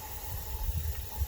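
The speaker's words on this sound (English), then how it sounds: "I'm going to take my hose here. I'm going to switch to the mist setting." A garden hose on its mist setting dampening a repotted Phalaenopsis orchid, a soft, brief, even hiss of fine spray over a low background rumble.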